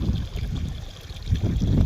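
Water trickling and gurgling as it flows down a sloped irrigation channel in a cotton field during sowing, a steady close-up stream with low rushing texture throughout.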